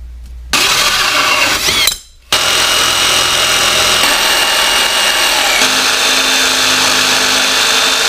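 A power tool cuts out a piece for a handmade center console, running loud and steady with a whining, broadband roar, briefly stopping near the two-second mark before resuming continuously.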